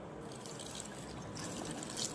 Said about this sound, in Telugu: మిల్క్ పావు లీటర్ పోసుకోవాలి.